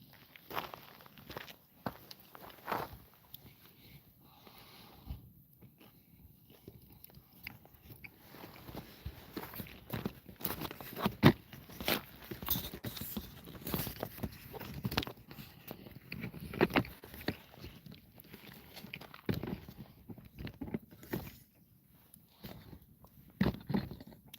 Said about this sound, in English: Sorry if you hear me chewing.